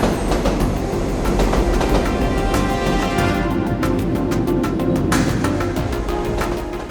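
A rack railway train running uphill in Switzerland grinds and rattles steadily with rhythmic metallic clicks and a low mechanical rumble, close and loud throughout, with no voices.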